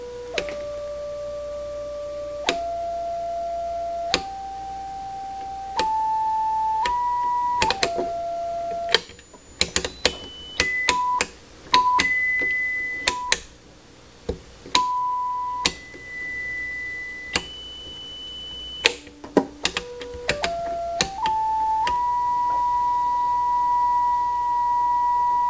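Test tones from an audio generator play through a 1937 Grunow radio with a repaired audio output transformer: steady pure tones stepping up and down in pitch, some held and some switching rapidly, with a faint hum underneath.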